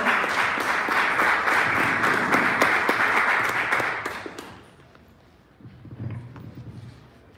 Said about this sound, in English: a round of applause to a brother there who come to share with us what it stands for.